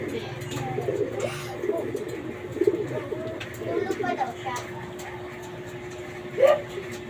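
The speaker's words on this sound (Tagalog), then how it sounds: "pag di nakawala yung kalapati ni Dadak" Pigeons coo softly and repeatedly in a steady low rhythm outdoors, with people talking nearby and occasional brief bird chirps over a constant hum.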